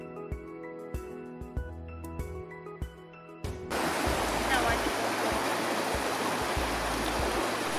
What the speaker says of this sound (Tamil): தண்ணியோட சத்தத்தை கேட்டுகிட்டே நாங்கள் வந்து வாக் பண்ண ஆரம்பித்தோம்.